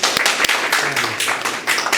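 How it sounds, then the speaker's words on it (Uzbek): Applause from a group of bloggers gathered for a Mafia party game, a burst of hand claps filling two seconds, close and fairly loud with sharp individual claps standing out. "Qarsaklar."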